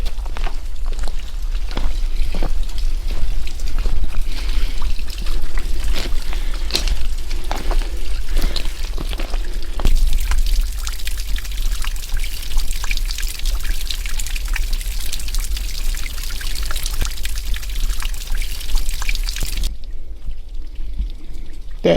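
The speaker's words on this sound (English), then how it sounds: "like the dripping water down the rock" Water trickling and dripping down a mossy rock face on a forest hike, a steady close splashing patter that holds throughout and drops away briefly near the end.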